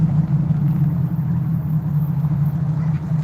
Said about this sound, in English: We've got a TVR coming in a bit late to the party.